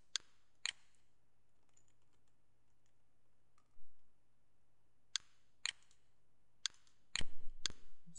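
A few sharp, isolated keystrokes on a computer keyboard while typing new text in After Effects, scattered clicks with quiet gaps between them, then a quick cluster of taps near the end.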